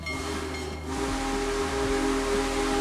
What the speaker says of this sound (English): That was the sound of the Big Boy, the world's largest operating steam train.